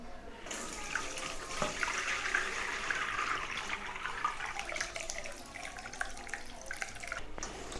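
Water drains and trickles through a sieve holding freshly made champakali pieces in a home kitchen, giving a steady splashing, dribbling wash that runs for several seconds at moderate volume.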